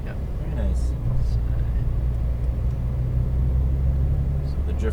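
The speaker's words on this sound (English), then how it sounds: "So the drift car just took off" A drift car taking off on a race track, a low steady engine rumble heard from a distance, continuous throughout with faint background noise.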